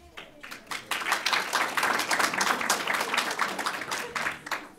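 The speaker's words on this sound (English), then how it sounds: "Yes, clapping makes me nervous." Audience clapping for a lecturer at a college lecture series, a crowd of individual claps swelling quickly from near silence, then continuing in a dense, fairly loud spell before tapering slightly at the end.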